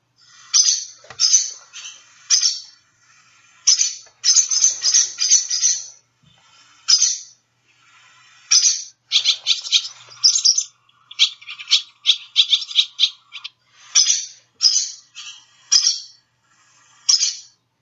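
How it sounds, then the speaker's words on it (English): A bird gives a run of short, separate cheep calls, bright and fairly close, in irregular bursts over quiet background with no talking. "when they're producing just single calls, they'll often do a cheep call."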